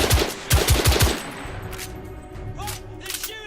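Rapid automatic gunfire in The Order: 1886, a tight burst of loud close shots in the first second, then echoing scattered fire and battle noise further off.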